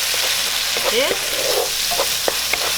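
Steady sizzle of tomato sauce being stirred into a hot pan for Mee Krob, with soft scraping strokes and a few utensil taps, and a brief spoken word over it.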